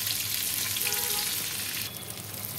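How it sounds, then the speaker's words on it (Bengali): Chicken cutlets fry in hot oil with a dense, steady sizzle, loud and close throughout with no voices, easing slightly toward the end. "ভাজা হয়ে গিয়েছে, এপিট টেপিট করে একটু ভেজে দেখিয়ে দিলাম।"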